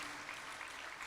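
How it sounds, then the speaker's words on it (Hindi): A crowd applauds in welcome for a member of parliament at a spiritual discourse in Raipur, a short, faint, even wash of clapping heard alone. "ताली बजाकर अभिनंदन करो।"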